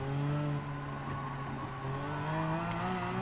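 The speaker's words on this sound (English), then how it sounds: "I just really love the sound of the V12 engine when driving the Aventador" Lamborghini Aventador V12 engine in Gran Turismo 7, a steady high-pitched whining drone held at speed, loud and continuous, alone without voices.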